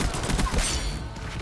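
Rapid automatic fire from a PP submachine gun in the Black Ops 6 multiplayer shooter, a dense burst of shots running nearly the full length at steady, loud level.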